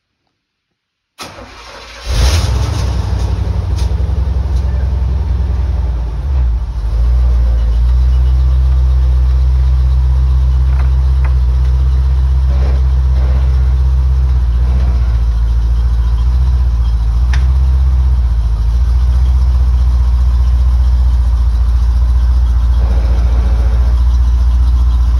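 A C4 Corvette from the 1980s fires up and settles into a loud, steady idle, its deep exhaust rumble running continuously and close for the rest of the clip.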